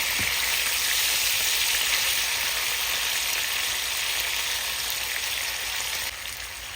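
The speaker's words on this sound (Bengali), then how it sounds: "এবার আমি মাছগুলোকে নেড়ে চেড়ে কিছুটা ভেজে নিচ্ছি" Fish frying and being turned in a pan gives a loud, steady, rain-like sizzle that carries on without a break, easing off slightly near the end.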